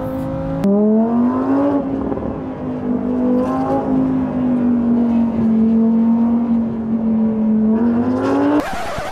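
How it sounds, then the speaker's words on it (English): A Lamborghini Huracan Evo drifts on a racetrack in Bahrain, its engine holding a loud sustained high wail with rising and falling pitch as the car slides, close and alone. "The brand new Lamborghini Huracan Evo."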